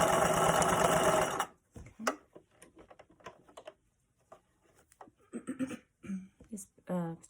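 A sewing machine stitches an adjustable apron strap in a loud, steady, rapid burst for about a second and a half, then stops abruptly; a voice speaks afterward over quiet handling sounds.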